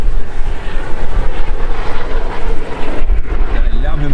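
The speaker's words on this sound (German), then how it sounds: "Der Lärm hier mit seinem blöden Hubschrauber." Helicopter noise near a yacht harbour during a sailing crossing to the Azores, a loud, steady engine roar that fills the whole stretch with wind and water noise around it.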